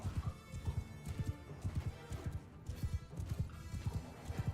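Cavalry horses in a video game, with steady clip-clop hoofbeats galloping throughout, mixed with neighs and whinnies, loud and close with no voices.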